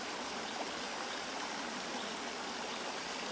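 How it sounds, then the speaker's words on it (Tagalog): River water flows in a steady, even rush of broadband noise, close and constant throughout with no other sounds. "Nandito lang kami sa gilid ng ilog. Ayun, ilog yan"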